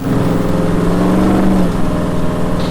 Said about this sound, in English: They did a 4-inch exhaust on this thing, and the sound of this car is just amazing